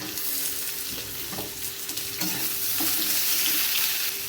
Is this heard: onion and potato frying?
yes